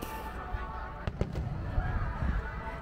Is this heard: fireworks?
yes